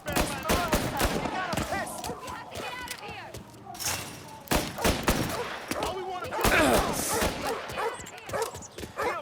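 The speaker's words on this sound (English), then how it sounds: "I'm shooting at people, look out!" Gunfire in the video game Mafia: Definitive Edition pops in quick, loud volleys throughout, mixed with a dog barking and yelping nearby amid a busy, noisy scene.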